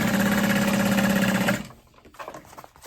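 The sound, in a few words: sewing machine stitching waterproof canvas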